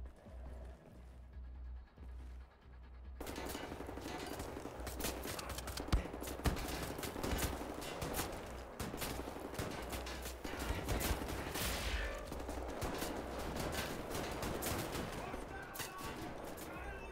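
Sustained automatic gunfire in the shooter game Wolfenstein: The New Order, a dense continuous barrage of rapid shots that starts abruptly after a quieter moment and roars on without pause.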